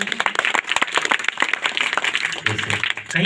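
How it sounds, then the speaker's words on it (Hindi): Audience applause at a Bhagwat Katha religious discourse in a pandal, a continuous dense patter of many hands clapping, steady and moderately loud throughout. "कहीं भी एक ताली की आवाज आए तो गड़गड़ाहट हो जाना चाहिए पूरे पांडाल में"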